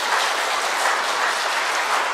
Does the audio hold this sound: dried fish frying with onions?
no